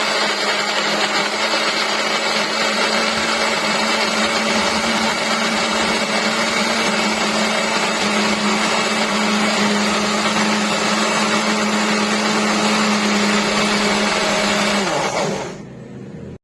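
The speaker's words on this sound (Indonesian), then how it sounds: "Kemudian ini kita masukkan ke blender ya, karena aku mau menghaluskan dengan blender biar lebih cepat." Countertop blender grinding spice paste with a little added water, a steady loud whirring drone running continuously for about fifteen seconds before winding down at the end, with no talk over it.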